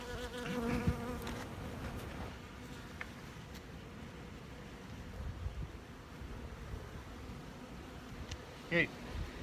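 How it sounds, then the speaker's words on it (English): Honey bees buzz around an open hive box in an apiary, a low, fluctuating drone with a few close fly-bys, soft wind rumble and occasional faint handling noises. "Another box of bees."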